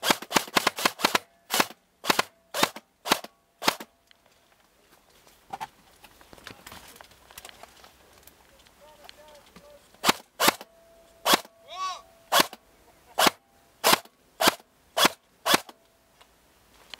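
Airsoft guns fire in quick broadband cracks at an outdoor Chesterfield skirmish, a fast volley at the start and another burst near the end with quieter gaps between, with faint voices in the background.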